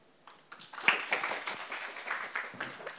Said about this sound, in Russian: у вас после каждого ответа все аплодируют